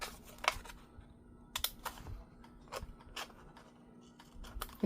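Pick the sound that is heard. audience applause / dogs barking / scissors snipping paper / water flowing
scissors snipping paper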